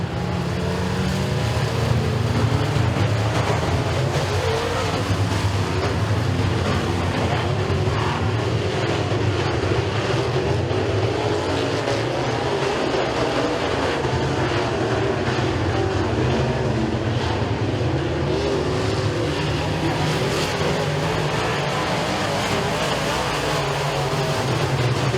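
Super Late Model race cars roaring around Eriez Speedway during a heat race, a loud, continuous dense engine drone that holds steady throughout without clear passes or gaps.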